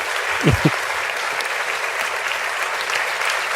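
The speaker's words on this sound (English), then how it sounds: "I'm gonna hit the clap on my board." Canned applause sound effect fired from a podcast soundboard, a steady wash of clapping that fills the short stretch at even loudness, with a brief vocal whoop near the start.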